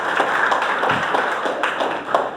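A classroom or quiz gathering breaks into loud applause for a woman who answered a Rajasthan geography question, with brisk continuous clapping close by.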